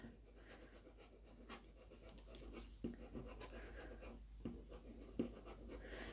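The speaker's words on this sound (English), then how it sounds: "just burnish over all of my design to transfer the pencil image onto the lino" Metal-tipped ball tool rubbing over the back of a lino block to transfer a pencil design, a soft, continuous close scratchy rubbing with a few sharper strokes and no talk.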